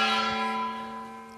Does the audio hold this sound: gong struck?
yes